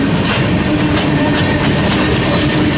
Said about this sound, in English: Watching the freight go by.